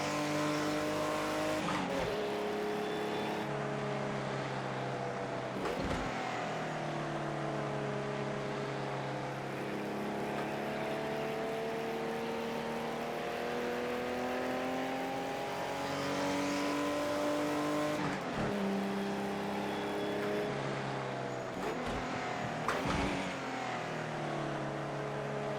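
A classic racing car, a Mercedes-Benz 300SL or Aston Martin DBR1, drives at Oulton Park in Project Cars 2. The loud engine drones steadily, its pitch rising and falling with the gears, with brief sharp breaks between shifts.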